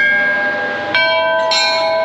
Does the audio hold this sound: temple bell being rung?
yes